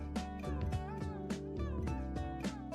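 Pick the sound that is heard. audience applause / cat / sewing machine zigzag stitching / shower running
cat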